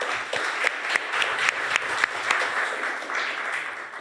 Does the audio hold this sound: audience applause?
yes